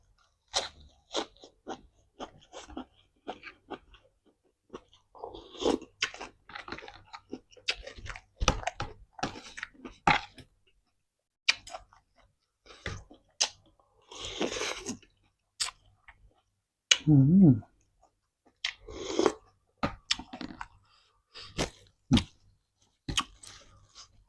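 Crunchy blanched vegetables eaten alongside fermented fish-sauce rice noodles with catfish and heaps of chili flakes: close, crisp bites and chewing crunches in irregular bursts, with quiet pauses between them.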